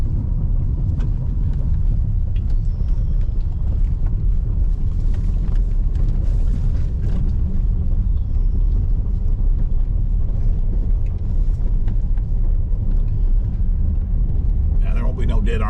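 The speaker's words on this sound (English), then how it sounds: "Here we are driving out of my driveway at a house." Low rumble of a car's engine and tires as it drives out along a rural gravel driveway past a pond, heard from inside, with steady road noise throughout.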